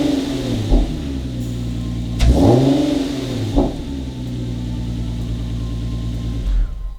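Car engine fitted with an AFE Pro Dry drop-in air filter revs sharply three times from a steady idle, each blip rising and falling back, with no talk.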